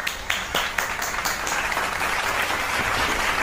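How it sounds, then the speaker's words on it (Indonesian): An audience at a magic show claps as a volunteer comes up on stage: a burst of dense, sustained applause with a few sharp individual claps standing out near the start. "Kalian beri tepuk tangan buat."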